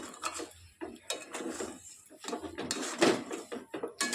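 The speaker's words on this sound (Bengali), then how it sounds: "এবার সব কিছুকে ভালো করে সুজির সঙ্গে মিশিয়ে নেব।" Semolina and powdered milk being stirred together in a bowl, a spoon scraping and clinking against the sides in uneven, close, fairly loud strokes with no talking.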